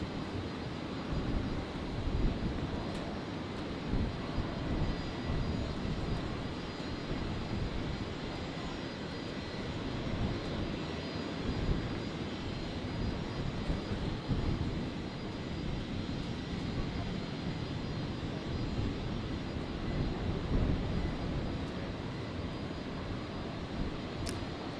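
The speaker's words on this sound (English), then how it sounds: "The EVA just about to pass straight over me." An EVA Air jet passes overhead at Brisbane airport on a stormy night, a steady broad roar that holds for the whole stretch at moderate distance, with no talk.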